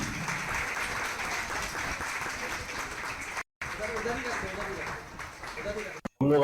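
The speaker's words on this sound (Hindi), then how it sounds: "तालियां बजाते रहिए दीदी।" Steady audience clapping at a village panchayat gathering in Kannauj, continuous and fairly loud with speech mixed in, interrupted by brief gaps near the end.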